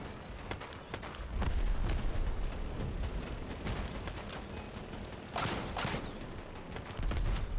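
Toadfish weapons in the vehicle combat game Crossout fire and impact in a busy battle, with dense repeated blasts and booms over rumbling engine and explosion noise.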